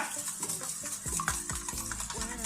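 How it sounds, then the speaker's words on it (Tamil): An egg is beaten for pancake batter, with a utensil clicking rhythmically against a bowl in quick, regular strokes, close and alone. "இந்த பேன் கேக் ஃபர்ஸ்ட் ஒரு எக்கை வந்து நல்லா பீட் பண்ணிக்கலாம்"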